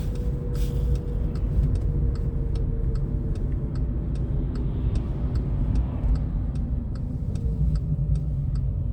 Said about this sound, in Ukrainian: Будемо повертати, тому включаємо поворот.